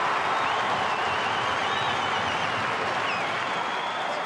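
Stadium crowd at an AFL Collingwood vs Bulldogs match roaring and applauding a goal, a dense continuous wash of clapping and cheering that stays loud throughout, with no voices standing out.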